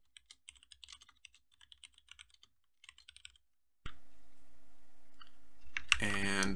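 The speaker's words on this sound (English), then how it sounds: "and then type whatever you want" Close, crisp typing on a computer keyboard, with rapid irregular key taps in short bursts for about three and a half seconds, then the typing stops and a steady electronic hum takes over.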